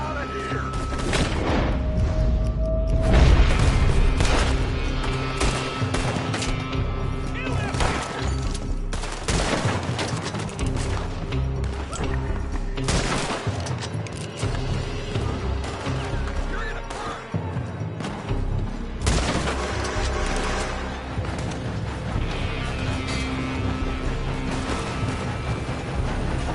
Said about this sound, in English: They're shooting from the... building!